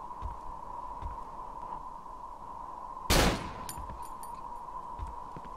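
A single sharp gunshot from a firearm in the horror game Cry of Fear cracks out loudly midway, standing alone over a quiet humming ambient background.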